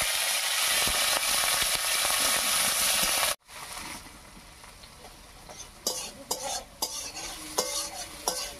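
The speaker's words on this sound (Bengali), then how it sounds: "পেঁয়াজটা হালকা লাল লাল করে ভেজে নিয়েছি" Chopped onion and slit green chillies frying in hot mustard oil in a kadai, first a loud continuous sizzle, then after an abrupt cut a quieter fry with several sharp spatula scrapes and clinks.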